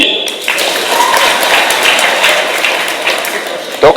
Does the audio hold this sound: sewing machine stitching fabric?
no